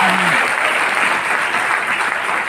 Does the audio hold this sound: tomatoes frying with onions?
no